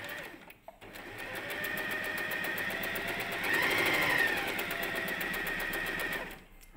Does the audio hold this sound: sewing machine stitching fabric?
yes